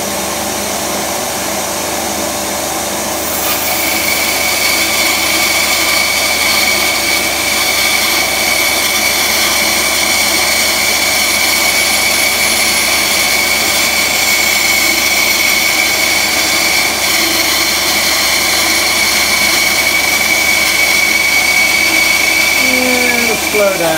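A benchtop craft bandsaw spins up a few seconds in and runs as a loud, steady whine and hum alongside a dust extractor. It drones on without a break, close by, while cutting through material.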